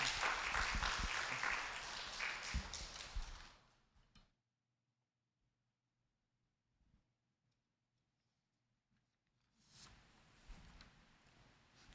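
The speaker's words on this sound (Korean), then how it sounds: "격려의 큰 박수로 파송하겠습니다" A Korean church congregation gives a burst of warm applause that fades out after about four seconds, followed by near silence and faint movement, then a second, quieter round of clapping near the end.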